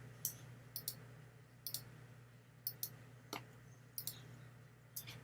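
A computer mouse clicks while shapes are arranged on screen, faint, crisp clicks arriving in quick pairs at a fairly regular pace over a quiet low hum.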